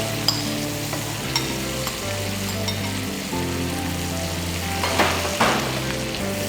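Mushrooms sizzle and fry in a pan while baked pasta is being made, a steady close crackle with occasional stirring scrapes and no talk.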